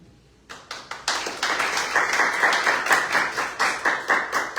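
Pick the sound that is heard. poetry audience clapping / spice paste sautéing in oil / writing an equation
poetry audience clapping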